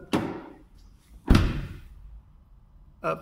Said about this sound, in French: c'est un pincement automatique, c'est-à-dire que nous n'avons pas besoin d'accompagner plus la porte pour la fermer